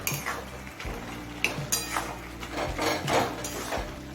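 Chopped kudri is stirred in a pan over a high flame, a spatula scraping and clinking against the metal in irregular strokes, fairly close and without talk.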